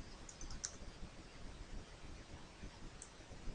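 A computer mouse clicks while resizing an image in Paint: a few faint, sharp clicks close together, then one more after a pause, over a soft background hiss.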